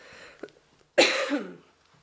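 A single harsh cough, close and fairly loud, preceded by a quiet breath and a small throat sound.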